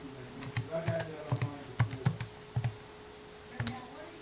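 Buttons pressed on a calculator keypad while working logarithm problems, giving a run of close, crisp clicks in an uneven rhythm that trails off into a pause before one last press.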